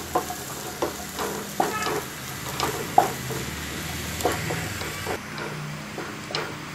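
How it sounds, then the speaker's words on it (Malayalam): Fried paneer is stirred into a spicy masala gravy in a pan, with a steady sizzle under repeated scraping and clinking strokes of a spoon against the pan at an irregular rhythm. "നമുക്ക് വറുത്ത് വെച്ചിരിക്കുന്ന പനീർ അതുകൂടി ഇതിലേക്ക് ചേർത്തിട്ട് നന്നായിട്ട് മിക്സ് ചെയ്തെടുക്കാം"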